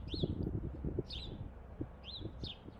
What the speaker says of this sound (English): as we're sitting here and we hear the birds